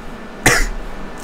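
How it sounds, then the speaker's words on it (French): One short, sharp cough from a nearby person, heard alone against a quiet background. "Franchement, je m'excuse vraiment, je tousse."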